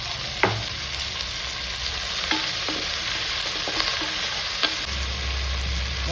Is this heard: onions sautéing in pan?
yes